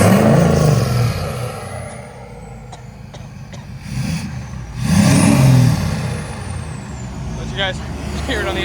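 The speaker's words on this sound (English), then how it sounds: "So it's 4-inch from the turbo all the way back, straight pipe." A 2020 Ford F-250 with a 6.7L diesel, DPF delete and 4-inch straight pipe from the turbo back revs up loudly twice nearby, its deep exhaust roar swelling and falling between rumbling idle.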